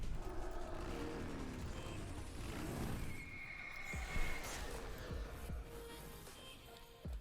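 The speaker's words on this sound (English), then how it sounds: "I'm riding a fucking miniature horse" A miniature horse ridden in a fantasy video game lets out a close, fairly quiet whinny that rises and falls, followed by a few soft hoof thuds and low rumbling background noise.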